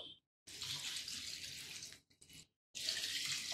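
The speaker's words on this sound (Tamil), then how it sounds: "முங்குற அளவு தண்ணி சேர்ப்போம்" Water poured into a cooking pot for watermelon kulambu, splashing in two bursts with short breaks between them, close and fairly quiet.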